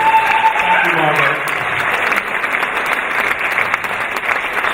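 A roomful of people claps steadily for a woman being honoured at a book presentation, warm continuous applause with a voice briefly audible at the start.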